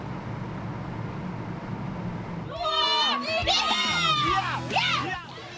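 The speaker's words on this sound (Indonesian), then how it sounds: "Sorak-sorai ratusan penonton terdengar menyemangati para emak-emak yang sedang berlomba." Hundreds of spectators at a traditional boat rowing race on the beach at Waruruma, Bau-Bau, Southeast Sulawesi, cheering on women rowers: a steady crowd murmur swells into loud, excited shouting and high-pitched cheers partway through.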